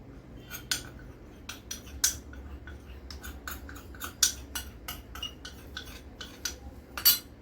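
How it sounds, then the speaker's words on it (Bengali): A spoon stirs cornflour into milk in a bowl, tapping and clinking against the side in a steady, quick rhythm of small sharp knocks, moderately close and with no voices. "এই কর্নফ্লাওয়ারটা ভালো করে গুলিয়ে নিই দুধের মধ্যে"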